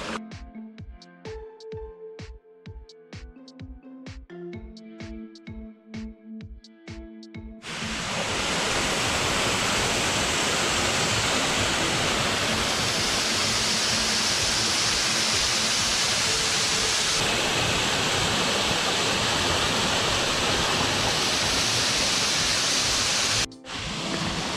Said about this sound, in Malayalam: ചെറിയ വെള്ളച്ചാട്ടമാണ്, എന്നാലും കാണാൻ നല്ല രസമുണ്ട്